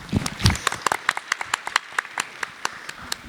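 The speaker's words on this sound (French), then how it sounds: "On peut l'applaudir." An audience claps in applause at a French literary event, starting as a dense burst and thinning into scattered individual claps that fade over a few seconds.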